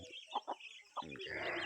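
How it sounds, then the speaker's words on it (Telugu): Farmyard chickens on a crop field cluck in short bursts while being fed, fairly faint and close, with a louder rising squawk toward the end. "ఈరోజు నేను పెంచే కోళ్ళకి నేను మేత వేస్తాను"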